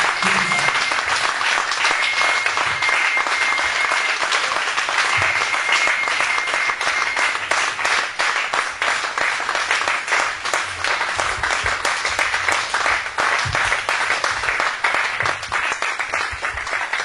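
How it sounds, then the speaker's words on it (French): A church congregation applauds during a worship service, dense sustained clapping from many hands filling a large room, loud and continuous throughout with faint voices underneath. "nous acclamons pour la gloire de Dieu"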